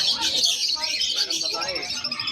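Caged yellow-face opaline birds, with lutino and yellow birds kept nearby, chirp in a busy, continuous chatter of close, bright tweets.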